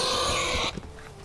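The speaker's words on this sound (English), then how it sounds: "Why do you hear the dying pig scream when you first jump down there?" A loud, harsh pig scream from the video game Planet of Lana, a dense shrill squeal that holds steady and then cuts off abruptly partway through, leaving a faint low rumble.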